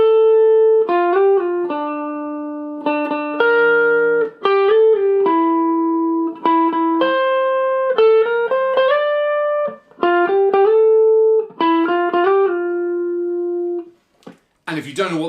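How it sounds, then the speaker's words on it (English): The Donkey Kong Country theme tune played as a solo electronic keyboard melody, a string of clear bright notes in phrases with brief gaps, ending in a short noisy burst. "That is, of course, the theme tune to Donkey Kong Country."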